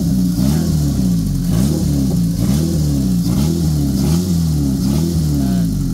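A Mitsubishi Lancer's 4G15 engine, checked for shaking, revs loudly and repeatedly close by, the pitch rising and falling in steady cycles about once a second.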